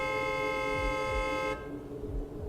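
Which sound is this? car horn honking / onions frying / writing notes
car horn honking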